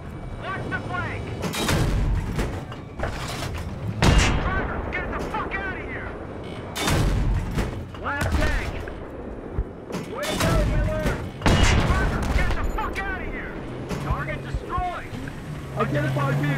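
Battlefield 3 battle: bursts of gunfire and booming explosions crack in clusters over rumbling engine noise, with shouted voices and radio chatter between the shots.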